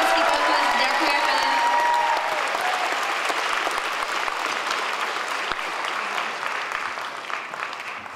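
An audience at a cosplay contest claps loudly and steadily, dense applause that slowly fades toward the end, with a voice briefly audible over it.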